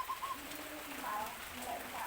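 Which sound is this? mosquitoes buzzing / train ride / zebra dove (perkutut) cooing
zebra dove (perkutut) cooing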